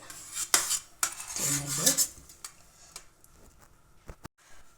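Knife cutting through a ripe papaya on a hard surface, a few sharp clicks and scrapes with a short rubbing squeak, then quieter taps and a final knock.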